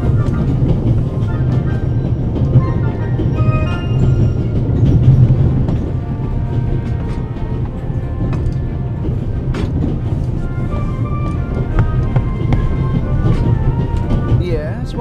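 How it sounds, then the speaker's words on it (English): A train rumbles steadily along the rails with a constant low roar and faint rattling, heard from inside a carriage, with voices mixed in. "The noise on this train is driving me crazy."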